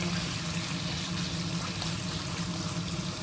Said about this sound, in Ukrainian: А поки наше м'яско шкварчить, обсмажується